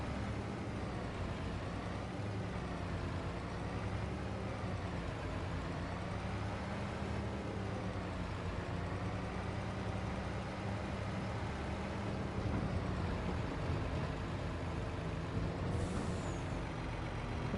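Heavy truck driving in Farming Simulator 25: a steady, loud engine drone runs throughout, with a brief hiss of air brakes near the end.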